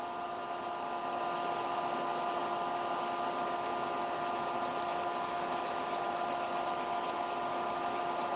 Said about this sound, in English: you want to use like a coarse file